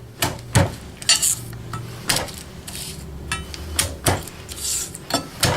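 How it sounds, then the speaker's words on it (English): Garlic cloves are smashed on a kitchen board during home cooking for a roasted eggplant dish, giving a string of sharp, close knocks and clatters spread at irregular intervals, with quieter handling noise between them. "I'm going to smash some of this garlic"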